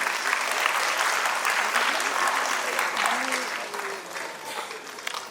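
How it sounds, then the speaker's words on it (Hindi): Loud, steady applause fills a felicitation ceremony hall, with scattered voices and cheers rising over it before the clapping eases slightly toward the end. "जोरदार तालियां।"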